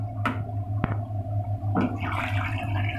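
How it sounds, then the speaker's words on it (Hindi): Water poured into a pot of browned chicken and potato curry (aloo chicken salan), giving a splashing, gurgling pour with a couple of sharp clinks over a steady low kitchen hum. "अब हम इसमें पानी डाल रहे हैं"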